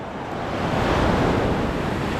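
Sea waves wash in a continuous loud roar on Sabang beach in Baler, Aurora, with gusting wind buffeting the microphone and no voices over the surf.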